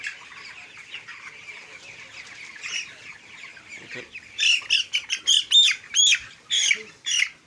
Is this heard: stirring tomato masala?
no